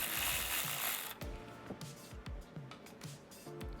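A wrench ratchets in short clicking bursts, tightening the negative terminal on a 12-volt vehicle battery, several pulls spaced roughly half a second apart, close and moderately loud after a brief hiss at the start.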